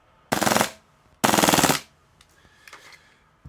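Airsoft Glock gas pistol firing with a Tokyo Marui magazine and a mismatched nozzle, two loud, close rapid bursts of shots in quick succession, each about half a second long, then faint mechanical clicks.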